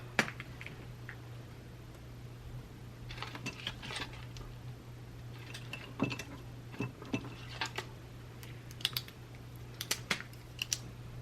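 A pen writing in a paper budget planner gives soft, close scratches and light taps at an uneven pace over a steady low electrical hum, with no talking.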